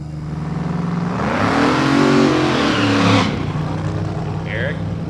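At a small-tire drag racing event, X275-class drag cars sit at the starting line of the strip, their engines idling, then roaring up in a loud revving burst before settling back, with an announcer talking over them.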